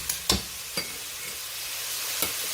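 Mashed garlic cloves frying in a pan for shrimp-pineapple fried rice, a soft steady sizzle broken by a few sharp scrapes and clinks of stirring.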